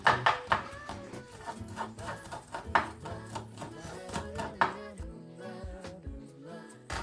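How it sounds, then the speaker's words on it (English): A knife slices a peeled spring onion on a chopping board in quick, close, sharp taps in uneven runs, heard over background music. "Start by peeling your spring onion and slicing it."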